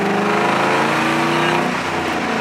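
Ford Mustang with stock manifold and stock exhaust, mufflers removed, revving loudly and steadily up close, a raspy engine note holding strong throughout with no talk.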